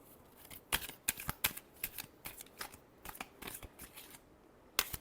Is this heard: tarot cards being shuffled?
yes